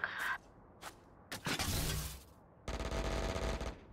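Gunfire in Valorant comes as a few scattered single shots, then a loud sustained burst of rapid fire near the end, fairly faint overall.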